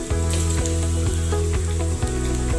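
Garlic frying in hot oil alongside green chillies for chilli fish: a loud, continuous close-up sizzle broken by regular soft spoon knocks roughly every half second, with a steady low hum underneath and no voices.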